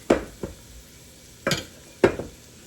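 Shallots are stirred in a pot for shellfish bisque. Four short, scraping stirring strokes come at an uneven pace, with a light sizzle between them and quiet gaps.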